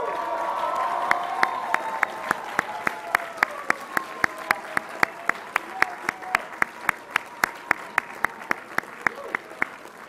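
Graduates at a 2011 engineering and applied sciences class day ceremony applaud their families, a broad crowd clapping that fades into a few sharp, evenly spaced single claps near the microphone, with a voice speaking faintly underneath.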